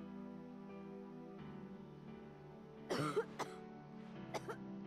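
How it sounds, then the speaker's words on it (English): A character coughs in Final Fantasy Type-0 HD, a short cluster of two or three harsh coughs and throat clearing over a quiet, sustained game music bed. "You sure cough a lot sometimes"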